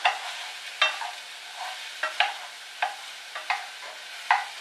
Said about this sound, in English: We're just waiting for the onions to cook a little bit more.